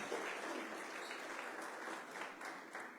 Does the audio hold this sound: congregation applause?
yes